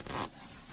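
A zipper on an XL cold-weather sleeping bag with a draft tube is pulled in one short, quiet scraping run that fades into faint background.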